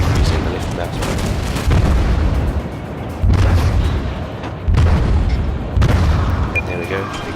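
Heavy ship guns firing in World of Warships, several loud booming salvos spaced a second or two apart, each with a rolling rumble, over continuous game background noise.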